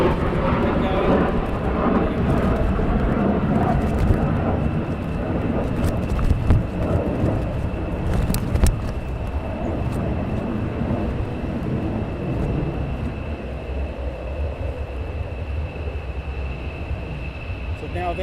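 Fighter jets roar over Lakenheath air base as a loud, continuous broadband engine rumble, steady throughout and gradually easing toward the end, with voices talking intermittently beneath it.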